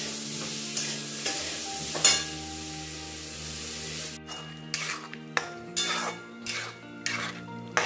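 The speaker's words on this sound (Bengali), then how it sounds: "আর পনিরটাকে মশলার সঙ্গে খানিকটা জল দিয়ে কষতে দিয়েছি" Paneer and peas simmer with spices and a splash of water in a pan, a soft bubbling sizzle at first, then bursts of metal utensil scraping and clinking against the pan, close up with no voices.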